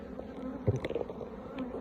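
A dense, steady buzzing of many honey bees close by at an open hive, a continuous low drone with small flickers as individual insects pass.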